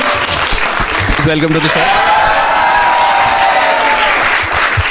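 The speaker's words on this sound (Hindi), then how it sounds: "Start clapping for the 3 contestants for today." A studio audience applauds for the contestants on a show, loud sustained clapping throughout, while a host speaks over it.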